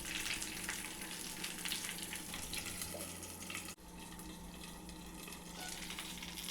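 Stuffed eggplant fries covered in a pan over a low flame, giving a steady, close sizzle and crackle with a soft watery hiss that dips briefly midway, with no talking.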